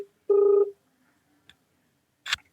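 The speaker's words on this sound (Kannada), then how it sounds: "ಕಾಲ್ ರಿಂಗ್ ಆಗ್ತಿದೆ ಗೈಸ್." A single phone ringback tone sounds once, a steady electronic beep of about half a second, followed by near silence with a faint click and a short burst of noise.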